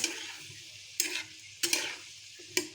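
Winter cauliflower cooking with prawns in a pan sizzles softly and steadily. Stirring scrapes burst out at regular intervals, about every second, close by and with no talking.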